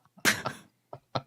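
A sudden close sneeze bursts out, followed by a couple of short, softer breathy catches, alone in a quiet room.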